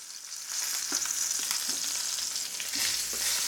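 Unsalted butter sizzles and crackles around a steak in a cast-iron skillet, a steady close frying hiss with occasional pops and utensil scrapes, no voices.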